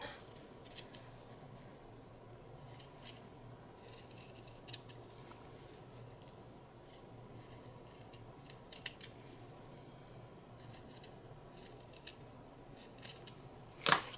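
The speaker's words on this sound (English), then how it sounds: "I want to just trim up the corners a little bit." Scissors trim the corners of a small quilted square with faint, sparse snips over quiet room tone, ending in one sharper, louder cut.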